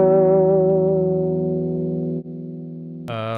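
Electric guitar played through a Neural DSP Archetype lead amp, a sustained harmonically rich lead note with effects sliding slowly, then a brief dip and a new brighter chord near the end, loud and alone without voices.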